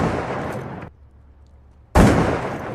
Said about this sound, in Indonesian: terdengar beberapa suara tembakan dari dalam gedung.